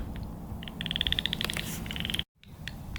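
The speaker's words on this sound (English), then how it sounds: "There's a chorus frog calling somewhere." A chorus frog calling from grass near water outdoors, a fast run of short trilled pulses repeating in bursts over a low background rumble, moderately distant and fairly faint.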